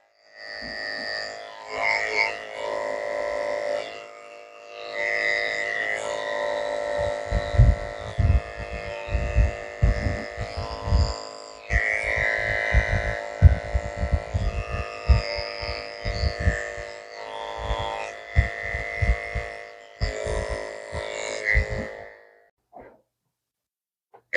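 Electric clippers shave the foot of a dog lying on its side during grooming, a steady close buzzing hum running through most of the stretch with bursts of handling noise, then cutting off near the end.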